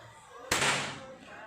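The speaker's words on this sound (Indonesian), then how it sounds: "Ini tes jarak tembak 25 meter, kita bikin bidikan satu," A single air rifle test shot fired at a 25-meter range: one sharp, loud crack bursts out suddenly and fades over about a second against a quiet outdoor background.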